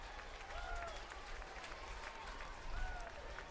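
A baseball crowd at a spring training game roars and applauds after a hit, a broad swell of cheering that rises again toward the end, with a commentator's voice faintly underneath.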